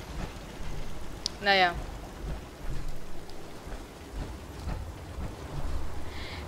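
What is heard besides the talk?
rain in Fallout 4 video game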